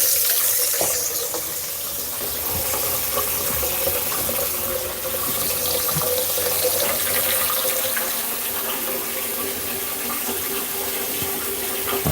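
Tap water runs steadily into a cooking pot in a kitchen sink, a constant close splashing rush with no breaks and no talking.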